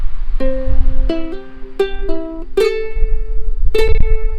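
Ukulele picking a song's riff, a sequence of plucked notes and pull-offs ringing clearly and close, with strummed chords struck at intervals and no voice.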